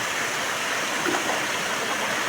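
A waterfall pours beside a river, a steady loud broadband rush of falling water continuing without a break throughout, close and dominant with no voices.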